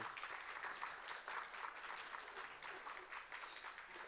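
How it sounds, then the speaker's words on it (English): Applause from an audience at an Indian country performing arts event in Chicago, a soft, fairly distant patter of many hands that holds steady for a few seconds. "So let's give them a round of applause, please."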